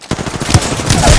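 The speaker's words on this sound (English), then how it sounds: "The enemies are shooting at me" In an Apex Legends match, enemy gunfire rattles out in rapid, loud bursts of automatic shots over a little more than a second, close by and alone without talk.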